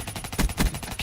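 Gunfire from the HG40 submachine gun in Call of Duty, heard as a short loud burst of rapid shots with two heavier booming reports close together.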